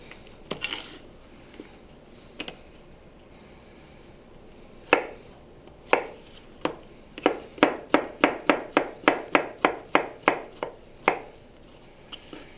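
Knife chopping vegetables on a cutting board in a home kitchen, a few scattered cuts followed by a steady run of about a dozen crisp, close chops.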